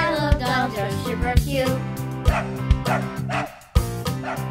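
A small dog barks in sharp, separate yips, about five of them spread unevenly, over steady music playing underneath.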